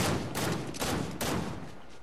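Rocket launcher fire in a video game comes as several sharp, booming blasts in quick succession, each trailing off into a noisy rumble before the next.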